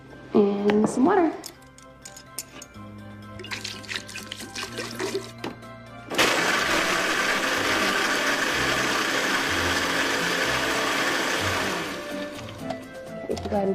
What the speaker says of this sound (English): Did you get that blender?